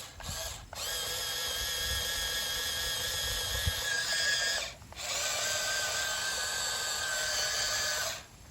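A Maisto RC T590 compact track loader's small electric motor whines steadily in two long runs separated by a brief pause, close and fairly loud with a mechanical rattle.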